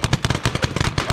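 Rapid burst of gunfire aimed at a mannequin, a dozen or so sharp shots in quick succession, loud and close, with no voices over it.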